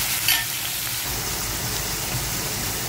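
Chopped onions frying in hot oil for a village-style fish curry, a steady close crackling sizzle with a brief brighter burst near the start, no voices.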